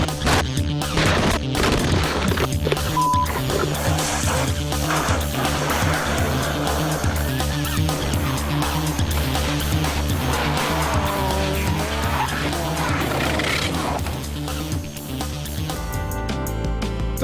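Rally cars at the Targa Tasmania tarmac event roaring, skidding and squealing tyres through a run of crashes, loud continuous engine noise with bursts of impact and screeching, no talk.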